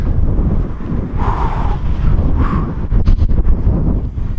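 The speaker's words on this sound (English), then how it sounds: "It's going to start getting windy again." Loud, rumbling wind buffets the microphone continuously on the coast at Southsea and Old Portsmouth, with gusty surges and a few brief rustling bursts.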